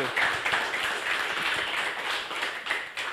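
Audience applause at a chatbot talk, a steady patter of many hands clapping at moderate distance, even and sustained for a few seconds with slight swells.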